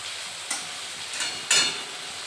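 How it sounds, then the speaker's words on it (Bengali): Potatoes and taro chunks fry in oil in a pan, giving a soft steady sizzle with a few brief louder bursts of stirring or spattering, and no voices. "আর এইদিকে আলু আর গাঁটি কচুটাকে আমি ভাজছি"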